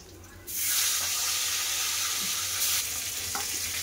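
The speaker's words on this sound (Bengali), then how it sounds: "এই মাছগুলো ভাজা হয়ে গেছে, আমি তুলে নিচ্ছি" Fish pieces fry in hot oil in a pan, giving a steady, dense sizzle that swells louder after a moment and carries on evenly with no talking.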